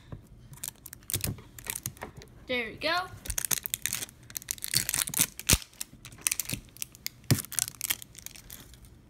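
Scissors cutting open plastic packaging on a slime container: crisp crinkling and snipping bursts with sharp clicks, close and fairly quiet, with a brief spoken remark.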